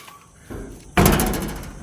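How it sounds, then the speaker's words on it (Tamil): A door is pulled shut with a single loud slam, preceded by a softer thud as it moves, the impact ringing briefly before fading, close by and with no talking. "இந்த கதவையும் அடைச்சிட்டேன்"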